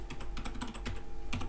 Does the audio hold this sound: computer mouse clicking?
yes